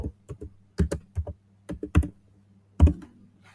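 Typing on a computer keyboard, a search term being entered: a short burst of clicky keystrokes in small irregular clusters, close and clear with no talk.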